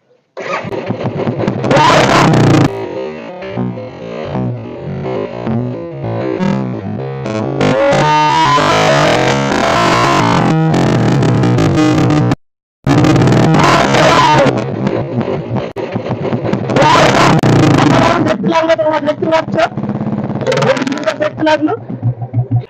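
A Bullet motorcycle engine starts and runs loudly and steadily for most of the stretch, with a brief cut in the middle and people talking over it.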